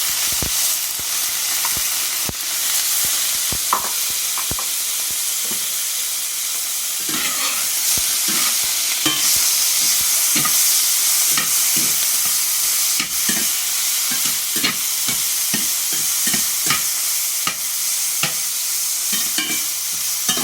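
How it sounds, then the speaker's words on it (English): Shrimp sizzle hard in a hot pot for a home okra stir-fry, with a loud steady frying hiss throughout and repeated scrapes and clinks of a utensil stirring. No one speaks. "I think this pot is ready, so I am going to put my shrimp in"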